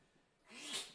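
A single faint human sneeze, a short breathy rise that ends in a sharp burst.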